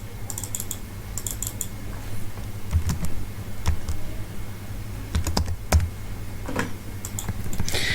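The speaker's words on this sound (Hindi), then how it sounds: "मेरे माउस का जो क्लिक है उसमें थोड़ा सा आज इशू आया हुआ है" Sharp, irregular clicking from a faulty computer mouse at a desk, a scattering of quick clicks in small clusters over a steady low hum, fairly close, with no talk.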